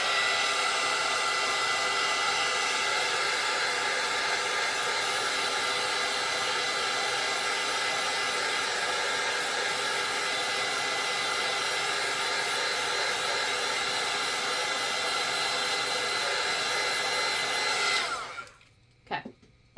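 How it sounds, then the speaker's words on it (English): A heat gun blows hot air over fresh paint on a handmade bookmark, a loud continuous whirring hiss that holds steady for most of the time, then cuts off abruptly and leaves a few faint clicks and rustles. "I am going to hit it with my heat gun again so I don't smudge it all up."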